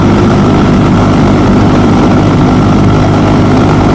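A KTM 390 Duke single-cylinder motorcycle engine idles roughly in its low rev range, a loud, close, continuous low rumble that runs steadily throughout with no talking.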